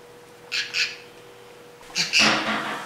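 Parrots squawk in a home on Christmas Day: a pair of short harsh calls, a pause, then a louder, longer burst of screeching close by.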